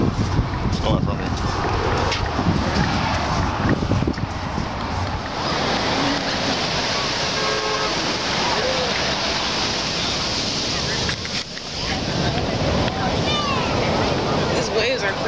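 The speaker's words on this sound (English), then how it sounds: "These waves are crazy." Ocean waves surge and crash in a continuous roar mixed with gusty wind noise, loud and close, while people talk over it at times.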